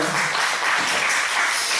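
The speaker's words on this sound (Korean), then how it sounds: "감사의 영광 박수 드립시다." A church congregation applauding during a Sunday morning service, steady dense clapping filling the room at moderate loudness with no talk over it.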